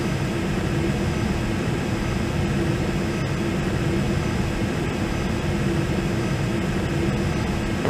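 Steady airliner engine drone from a home-cockpit flight simulator on approach into Anguilla, a constant low hum with a faint whine that holds level throughout, with no talking.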